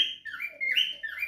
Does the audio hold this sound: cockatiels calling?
yes